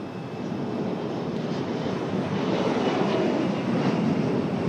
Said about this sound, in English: Nice shot right in front of the sun for our CRJ.